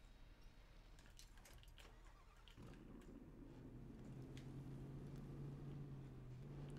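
A Shorty Dentside mod truck engine in SnowRunner on PS4 revs up partway through, a faint low rumble rising into a steadier growl with an audible pitch climb as the throttle opens.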